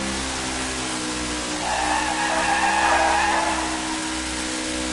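A NASCAR Cup Series race car's tires squeal and hiss in a sustained burnout at Sonoma Raceway over a steady engine drone, with fans cheering, swelling louder midway before easing back.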